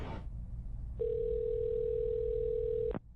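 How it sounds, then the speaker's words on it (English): After a brief noisy moment, a steady electronic telephone dial tone in the video game Lucid9: Inciting Incident hums for about two seconds, then cuts off abruptly. "The dial tone suddenly stops."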